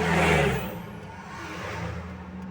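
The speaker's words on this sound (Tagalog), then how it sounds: "Mabibilis po kasi ang sasakyan." A fast car whooshes past on a roadside, loud at first and then fading, with a second engine rising again as traffic keeps moving.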